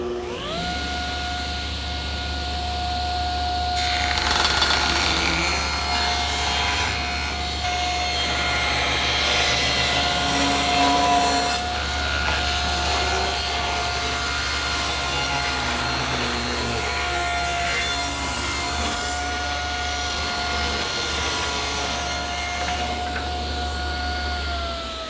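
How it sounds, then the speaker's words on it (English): Table saw ripping a thin strip off the edge of a wood board, steady motor whine with a rising, louder cutting roar through the middle of the pass, close and sustained, no talking. "So I think I'll set the saw at 3 1/2, just to remove a little bit from one edge."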